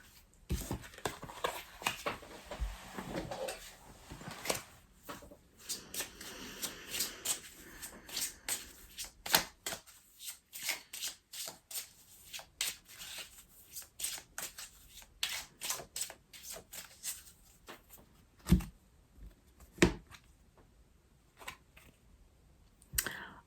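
Playing cards are shuffled by hand in short, crisp riffling bursts separated by pauses, soft and close, with scattered light taps and clicks.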